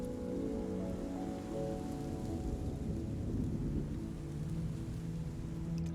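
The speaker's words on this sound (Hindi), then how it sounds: "बारिश तो रुक गई।" Steady rain falling on surfaces with low rumbling underneath, continuous and soft throughout, with no one speaking.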